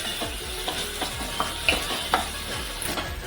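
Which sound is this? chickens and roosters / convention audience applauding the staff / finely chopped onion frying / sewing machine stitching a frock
finely chopped onion frying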